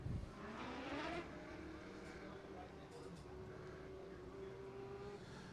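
Sprint cars racing around the Tri-State Speedway dirt oval, engines roaring and rising in pitch as they pass, loud and continuous, with an announcer talking over the noise.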